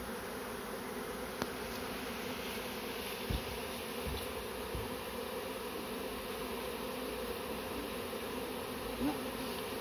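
A honey bee swarm being gathered hums as a steady, dense buzz of many bees, quiet and continuous, with a few soft handling knocks.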